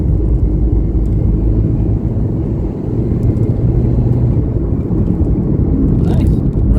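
A 2002 Toyota Corolla engine running with a steady, loud low rumble that continues without a break, with a voice talking over it.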